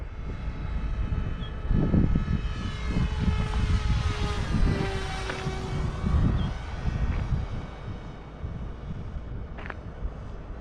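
An RC F-18 model jet running on a 4S or 3S battery makes a speed pass overhead. Its whine rises as it approaches, peaks loudly, then drops away with a clear Doppler sweep and wind buffeting.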